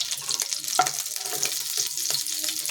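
Fish roe sizzles in hot oil in a pan, with a steady close crackle and a few brief stirring clinks, and no voices.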